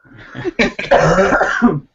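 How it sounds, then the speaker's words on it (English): A close, rough fit of coughing: several harsh bursts running together, ending with a throat-clearing rasp. "I'll start coughing again"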